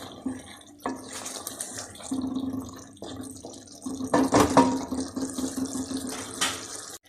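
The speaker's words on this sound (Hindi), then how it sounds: "1 कप पानी डालने लगी हूँ" A cup of water poured into a mutton karahi on a low flame. Splashing and pouring come in short bursts with brief pauses between them, moderately close and with no talk.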